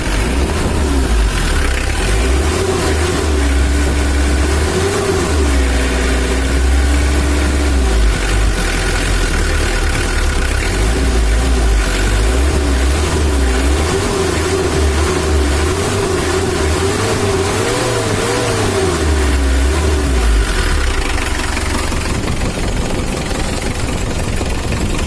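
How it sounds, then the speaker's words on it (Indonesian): A Mitsubishi L300 diesel engine idles steadily with its idle speed turned down, giving a loud, close, continuous low rumble with an even pulse and no voices. "Nah ini mesinnya udah stabil, langsamnya udah kita kecilkan"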